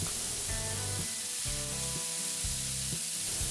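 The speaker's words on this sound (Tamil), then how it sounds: "எண்ணெய் சூடானதும் இதில் ஒரு சின்ன சைஸ் வெங்காயத்தை சின்ன சின்னதாக வெட்டி வச்சுருக்கேன், அதை சேர்த்துடலாம்" Finely chopped onion, carrot and beans frying in hot oil, a dense, loud, continuous sizzle, close up, with a faint rhythmic tonal pulse running beneath it.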